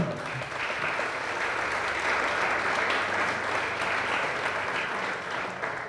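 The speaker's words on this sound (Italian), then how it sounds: "Poi facciamo un grande applauso." Audience applause at an anniversary gathering of AIDO Valdobbiadene, a blood donors' association, a dense, steady wash of many hands clapping together that carries on unbroken and fairly loud.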